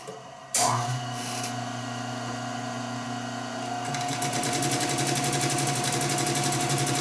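An industrial sewing machine fitted with a domestic needle starts abruptly and runs steadily, with a constant motor whine and a fast, even stitching rattle that grows brighter and denser in its last few seconds. Nobody talks.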